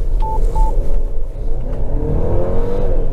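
A Jaecoo J8 Chinese crossover accelerates hard on a test drive, with a loud, steady engine and road rumble and a rising whine, plus two short electronic beeps near the start.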